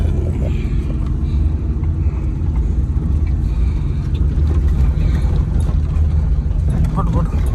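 Car engine rumbling steadily while climbing a steep hill road near a mountain village in Munnar, a constant loud low drone with people talking over it throughout.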